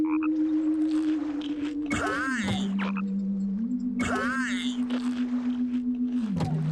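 Frogs croaking in the Genewars video game, a sustained low droning croak that shifts pitch in steps, with sharper warbling calls layered over it at intervals, steady and fairly loud with game background hum.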